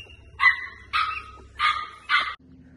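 Puppies on a farm barking in four sharp, close yips spaced roughly half a second apart, loud and clear with little else around them.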